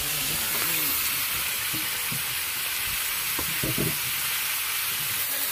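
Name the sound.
pumpkin being sautéed in a pan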